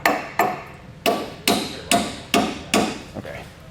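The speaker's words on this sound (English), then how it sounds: "you can drive it through the rest of the way if you need to with a hammer there" Hammer tapping a bolt through a Roadmaster Direct-Connect tow base plate bracket: eight sharp metallic strikes at a steady, moderate pace, close and loud, with no talking.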